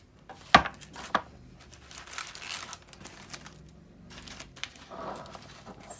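Knife slicing through smoked meat on a cutting board, meat cooked on a Pit Boss Austin XL pellet smoker or a Weber charcoal smoker; two sharp crisp cuts up front followed by softer crinkling, scraping strokes, close and alone.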